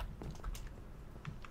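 Typing on a computer keyboard during a Pokémon-style online game session, soft scattered key clicks in an irregular rhythm, faint and close over a low background rumble, with no talking.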